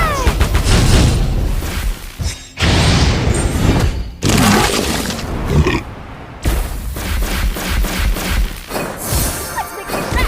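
Dense, loud crashes and booming blasts from bomb explosions in the mobile game Legend of Ace, layered with effects and grunts, nearly continuous with a few brief gaps.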